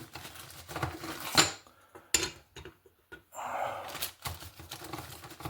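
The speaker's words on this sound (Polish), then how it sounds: "W tej chwili na dnie garnka będę układał patyczki" Light wooden clicks and clatters as small sticks are laid on the bottom of a metal pot for cooking pinnekjøt lamb ribs, a few sharp knocks spaced irregularly, close up and fairly quiet.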